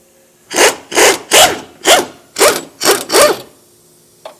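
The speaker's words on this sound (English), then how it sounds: "we're going to string together a few extensions, 3/4 inch socket, and we're going to take the nut off first" Ratchet clicks from a socket wrench on a long string of extensions with a 3/4 inch socket, backing a body mount nut off the core support of a 1980-96 Ford Bronco; seven evenly spaced, loud rasping ratchet strokes, then a faint tap.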